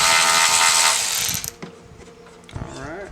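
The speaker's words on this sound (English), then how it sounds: "Power tool magic. Power tools are amazing." Power tool whirring loudly while a front mount intercooler with boost tubes is fitted to a 2017 Civic Type R, then cutting off into quieter ratcheting and tool clatter.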